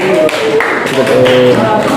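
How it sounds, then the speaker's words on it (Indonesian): A classroom group applauds a student after her presentation, a short burst of scattered clapping close by, mixed with overlapping voices of people talking. "Tepuk tangan untuk Liliana"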